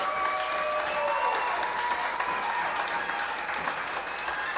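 Sustained crowd applause at a baseball game as a pitcher leaves the mound after a pitching change, steady and dense throughout with a faint murmur of voices mixed in.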